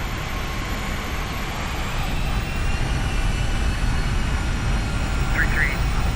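Airbus A321 jet engines roar steadily on the takeoff roll in the X-Plane 12 flight simulator at Boston's runway 33 left, a loud continuous broadband rumble and whine filling the whole stretch, with voices audible over it.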